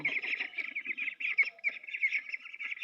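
A group of young ducklings, just under a month old, peep continuously in a dense high chorus, close and fairly faint, with soft shuffling underneath.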